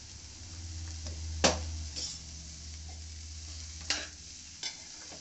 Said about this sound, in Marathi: पुन्हा परतून घ्या। स्लो ठेवायची।